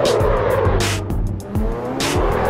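A car drifting in the Assetto Corsa racing game, its tires squealing loudly and continuously over a strained, revving engine, with the squeal swelling in several long waves.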